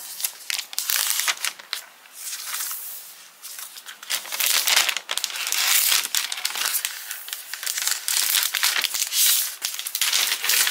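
Clear plastic wrapping crinkles and crackles as it is peeled off a new laptop, a dense, continuous rustling close by with brief tearing bursts, and no voices.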